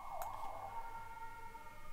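An ambulance siren wails steadily as a sustained tonal note, fairly faint and distant, with a brief click near the start and no talking.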